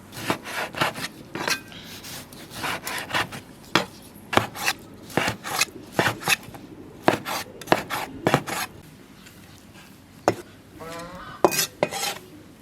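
A kitchen knife chops pork on a cutting board in a home kitchen, with close, sharp strikes in irregular quick bursts and short pauses between them.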